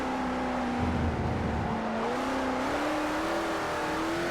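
Koenigsegg CCX supercar in Forza Horizon 4 revs with a deep, raw engine note that climbs steadily in pitch, loud and continuous with no talking.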